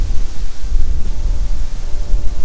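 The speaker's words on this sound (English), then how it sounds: "It is really windy" Strong wind on a causeway in Finland's Lakeland region buffets the microphone in continuous low, gusty rumbles, loud and close throughout with no other sounds.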